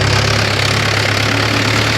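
A tractor engine idles close by, a loud, steady low rumble with a regular throbbing pulse throughout, no voices over it.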